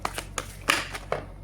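Tarot cards shuffled and drawn: a few quick soft riffling and slapping card sounds in an irregular rhythm, faint and close, with no talk.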